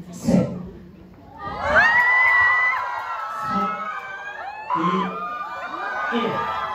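Fan meeting audience cheering, whooping and shouting together, with loud bursts of excited voices swelling and falling over several seconds, close and lively.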